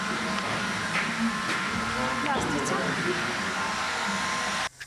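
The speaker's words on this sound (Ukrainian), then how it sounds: "Гермомішки виготовляють з допомогою спеціального фена." A special heat gun used in making PVC dry bags gives a steady, loud, hissing airflow that holds through nearly the whole stretch and cuts off abruptly at the end.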